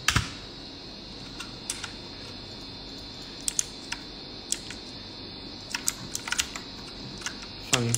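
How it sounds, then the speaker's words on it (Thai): Clicky keystrokes tap in irregular bursts and pauses, close and crisp against a faint steady hum. "ผมไม่คิดว่าจะมีคนชอบเสียงคีย์บอร์ดนี้เหมือนกันนะ"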